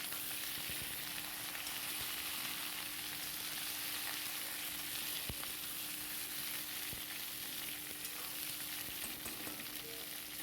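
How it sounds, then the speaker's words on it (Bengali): Potatoes and pointed gourd fry in a wok with a steady, dense sizzle that holds evenly throughout, close and constant, with a few faint clicks of stirring. "দিয়ে এইবার এটা ঢাকা দিয়ে দিয়ে আমি ভেজে নেব"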